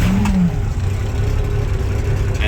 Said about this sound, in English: by hitting the starter motor before you make the mags go hot